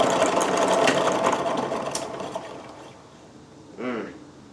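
A homemade wood lathe driven by a washing machine pulley spins up with a whirring motor hum that fades as it winds down, followed by a brief voice-like sound near the end.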